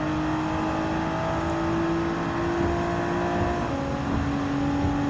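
A Nissan Skyline R32 engine in Gran Turismo 7 holds a steady, droning note at high revs, close and continuous, with a slight pitch shift toward the end and no talk over it.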